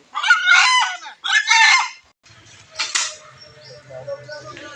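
A desi rooster clucks and calls as it is caught by hand at a fish seller's stall, loud bursts up close followed by quieter clucking and shuffling.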